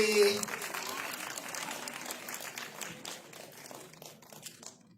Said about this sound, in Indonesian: Kita berikan tepuk tangan untuk Ajo Tentuya Kelly.